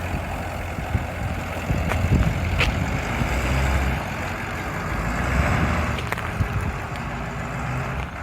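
A pickup truck engine runs with a low, steady rumble, wind buffeting the microphone and occasional knocks and clatters over the drone; no talking.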